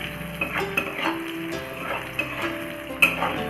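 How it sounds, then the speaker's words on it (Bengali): Boiled potatoes frying in hot oil with salt and turmeric, a steady close sizzle with scraping stirs and occasional clinks of a utensil against the pan. "আলুগুলো একটু নুন হলুদ দিয়ে লাল লাল করে ভেজে নেব।"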